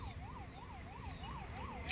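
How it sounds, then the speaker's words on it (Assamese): An ambulance siren wailing, rising and falling in a regular, rapid cycle, heard from a distance over low traffic rumble. "এতিয়া আহি আছে এম্বুলেন্স"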